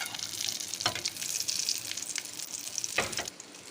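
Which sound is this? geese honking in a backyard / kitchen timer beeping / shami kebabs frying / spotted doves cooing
shami kebabs frying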